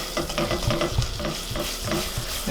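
A honey ham glaze melts in a pan while a spoon stirs it in quick, rhythmic scrapes and taps over a steady low sizzle, close and fairly loud throughout, with no talking.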